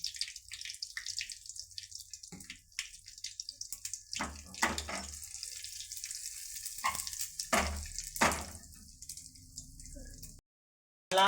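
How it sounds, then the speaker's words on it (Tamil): Mustard seeds, turmeric and asafoetida sizzle in hot oil for dal sambar, with a steady crackling fry broken by sharp pops and spatters, close up and alone. "நல்லா பொரியுது."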